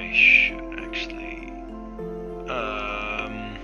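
A Minecraft sheep gives a short, bright bleat near the start, followed by a second fainter bleat, over steady tonal game music that swells near the end.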